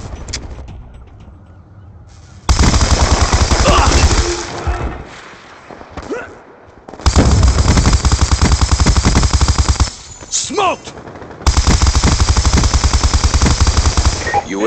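An LSAT light machine gun fires in a video game, loud and close, in three long sustained bursts of rapid automatic fire separated by short gaps filled with quieter game sounds.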